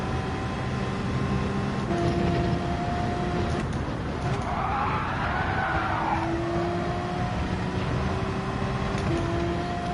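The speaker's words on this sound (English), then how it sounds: "Using the rotation of the Porsche to the advantage by just sliding it in there." A Porsche in Gran Turismo 7 slides through a corner, its engine droning steadily while a tire skid squeals up in the middle and fades, with no talking over it.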